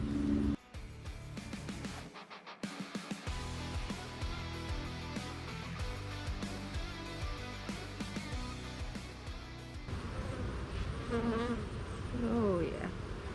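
Dense, continuous buzzing of many honeybees close by in an open hive during a fall mite check, with the drone rising and falling and no voices.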